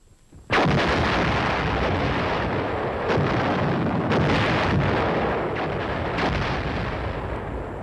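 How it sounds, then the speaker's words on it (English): A howitzer artillery barrage in a Cold War–era field exercise: after a sudden onset comes a loud, sustained rumbling roar of continuous explosions with several heavier blasts rising out of it. "The howitzers to drop their explosives on the other side of the hill to prevent reinforcement or retreat."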